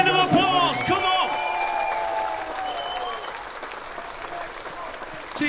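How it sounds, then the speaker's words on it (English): Live concert audience at The Lowry applauds, a loud, dense wash of clapping that holds steady and tails off slightly, with a voice speaking briefly over the start. "Give yourselves a round of applause"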